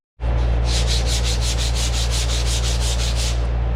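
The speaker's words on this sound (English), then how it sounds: "I need a new piece of sandpaper though." Sandpaper scrubs a car body panel in a rapid, even run of about a dozen close, loud back-and-forth strokes, with no voices.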